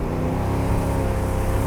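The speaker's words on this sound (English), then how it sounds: "I just touched the accelerator." A 1967 Chevrolet Camaro engine revs briefly when the accelerator is touched, a loud, close, throaty growl that sustains for the whole short moment with no talk over it.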